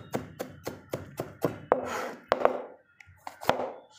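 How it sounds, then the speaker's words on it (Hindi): Onion chopped with a knife on a board: a brisk series of crisp, close thuds, about two per half second, with a short gap near the three-second mark before a few more cuts. "प्याज को चॉप करेंगे, इस टाइप से काटना है आपको"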